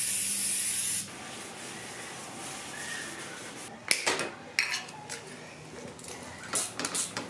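Contact cleaner sprays onto Yamaha FZ-07 exhaust parts during a Two Bros full exhaust install: a loud, close hiss lasts about a second, then gives way to a quieter background with scattered handling clicks and knocks.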